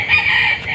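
A brief chicken call, close and fairly loud, heard alone for under a second.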